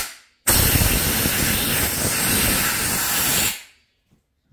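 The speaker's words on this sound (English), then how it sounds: "And I use compressed air." A sharp burst of compressed air blasts into a cylinder-head bolt hole on a C5 Corvette LS6 engine block, a loud steady hiss lasting about three seconds before cutting off abruptly.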